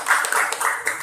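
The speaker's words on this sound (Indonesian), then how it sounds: "kita berikan tepuk tangan untuk kelompok 4" A classroom of students claps for group 4: a brief burst of dense, scattered applause that stays fairly steady for about a second.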